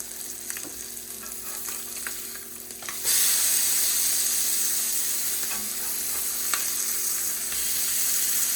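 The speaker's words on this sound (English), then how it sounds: "You can still see plenty of grease popping around the outside edge of them." Blackened fish frying in grease in a pan, a steady sizzle with popping crackles that jumps much louder partway through and then holds, with no talking.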